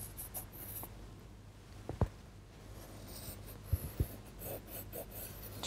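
A pen traces an outline around a round template onto a CD for cutting out a picture frame, giving a soft continuous scratchy rasp with a few sharp taps, close and quiet throughout.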